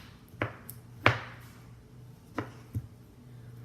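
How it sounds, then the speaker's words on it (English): A knife chopping mushrooms on a cutting board while preparing a keto bento box: four or five sharp, close strikes land at an uneven pace with short pauses between them, and no one talks. "I am not real graceful at chopping things up"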